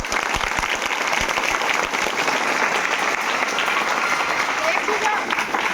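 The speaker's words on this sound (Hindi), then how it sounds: "बिल्कुल ताली बजाइए एक बार" A room of students at GIC Fatehganj inter college in Ayodhya district claps together, a thick, steady burst of applause that holds evenly at full strength throughout, close and loud.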